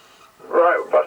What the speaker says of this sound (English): So it's kind of noisy squelch, it's hissing all the time.